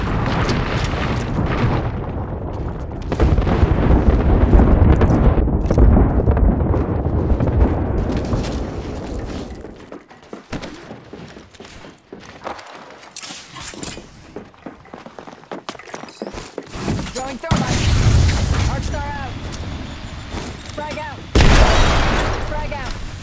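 Artillery strike explosions in the video game Apex Legends, a series of loud, rolling booms and blasts that come in waves, with heavy low rumble and bursts of debris-like crackle, mixed under game voice lines.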